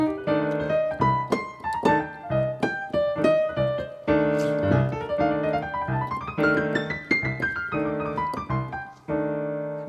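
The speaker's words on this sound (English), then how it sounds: "Scale number 7 is what I call the minor rub scale" A jazz minor rub scale played on piano, with rhythmic chords and melodic runs climbing and falling, clear and close with no talking.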